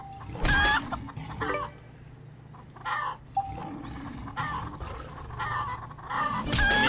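Chickens in the Predator Simulator game cluck and squawk in repeated bursts, with loud close clucks alternating with quieter pauses over a low ambient hum, with no voices.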